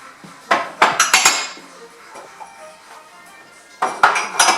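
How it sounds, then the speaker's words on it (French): Washed dishes, plates and cutlery are stacked and put away in a kitchen, giving bright clattering clinks in two bursts separated by a quieter pause. "je range ma vaisselle"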